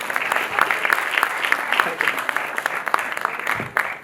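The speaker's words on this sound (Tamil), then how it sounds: "ஒரு பெரிய கைத்தட்டலுடன்" An audience at a trans achievers award ceremony applauds loudly and continuously, dense clapping filling the room with a faint murmur of voices underneath.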